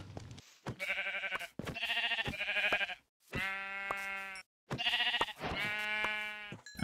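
Sheep in the video game Minecraft bleat loudly and close by, giving about five drawn-out, wavering cries in quick succession separated by short silences.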